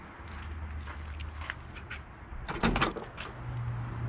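A 1965 Ford Falcon car door is opened and shut with a solid metallic clunk, close and fairly loud over a low idling rumble, with rustling before it and no talk.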